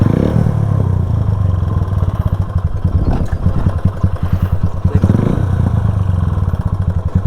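A motorcycle engine runs close by with a loud, rapid clattering knock that pulses steadily through its idle and light revving.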